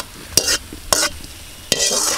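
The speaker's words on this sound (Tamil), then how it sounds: "இப்போ வந்து நம்ம பொறிச்சு வச்சுருக்கிற பூந்திக்குள்ளே ஊற்றிடலாங்க" Hot ghee with fried raisins is poured over fried boondi for laddu, giving three loud sizzling bursts with hissing and crackling close up, each fading into a brief quiet gap.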